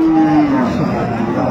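A cow at a cattle market in Aftabganj, Dinajpur, gives one loud, close, drawn-out moo that fills the short moment, with faint market background around it.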